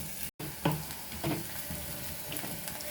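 Ginger, green chili, curry leaves and onion sizzling in hot oil in a pan, a steady close frying hiss with a few stirring scrapes.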